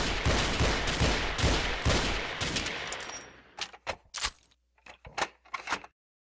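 Model 29 revolver fired in a video game, a dense burst of loud overlapping gunfire followed by several sharp separate shots with short silent gaps, close and without speech.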